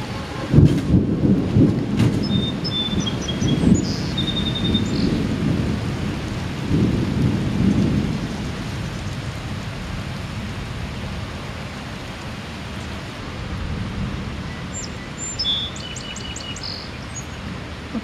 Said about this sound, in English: Okay, big rain dropping right now.